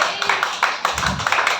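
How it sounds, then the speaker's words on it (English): A church congregation claps for Brother James in a short, steady rhythm of even hand claps, a brief burst of applause heard alone. "So let's clap our hands for Brother James."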